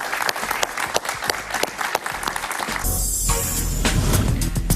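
Studio audience applause during a Spanish-language talk show, a dense, steady wash of many hands clapping that swells and holds for several seconds at close range.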